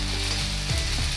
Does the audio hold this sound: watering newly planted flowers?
no